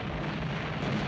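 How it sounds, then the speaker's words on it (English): A deep, sustained rumbling blast fills the clip, heavy and dense, like a large wartime bomb explosion reverberating at a distance. "That noise, that big explosion"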